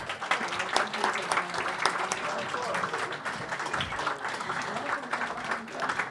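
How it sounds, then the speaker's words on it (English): An audience at a poetry center's anniversary celebration claps steadily throughout, a sustained wash of applause from a crowded room. "Can we please give our blog readers a big, big round of applause?"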